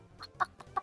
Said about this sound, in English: these are all my chickens.